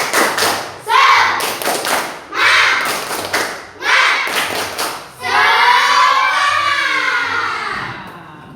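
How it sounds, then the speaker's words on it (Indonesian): A school class performs the rhythmic 'tepuk semangat' clapping chant, with bursts of group clapping in a steady beat, each burst answered by children's voices chanting together, ending in a sustained loud cheer. "Coba dengan hitungan ketiga kita tepuk semangat ya."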